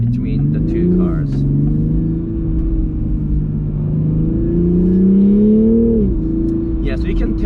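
A 2020/2021 Toyota Supra engine humming steadily from inside the cabin while driving and turning, its low drone rising and falling slightly in pitch, with someone talking over it.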